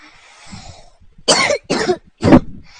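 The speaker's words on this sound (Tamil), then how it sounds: "அவன் தொட்ட உடனே எனக்கு இருமல் தான் வருது" Three sharp, loud coughs in quick succession, each a short harsh burst, with a quieter rustle before them.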